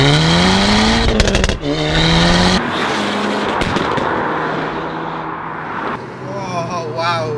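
A tuned Audi S3 at Stage 2+ with antilag roars past outside, its exhaust crackling with sharp pops and bangs over a loud, rising engine note that swells and fades during the flyby.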